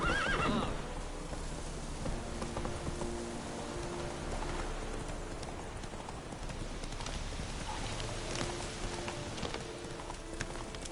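Geralt's horse Roach whinnies briefly at the start in a video game, then hooves clip-clop steadily over a constant rain-like wash of ambience with scattered small sounds.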